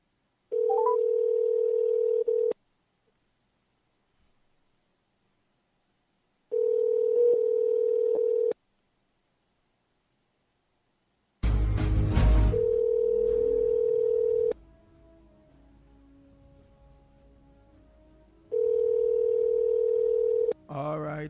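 A telephone tone sounds in long, evenly spaced beeps with silence between, interrupted midway by a clatter of handset noise and faint background sound.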